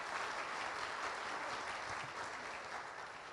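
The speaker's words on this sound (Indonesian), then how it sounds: "Tepuk tangan bagi dia." A church congregation at a worship service breaks into brisk, dense applause, a continuous wash of many hands clapping at steady loudness with no voices standing out.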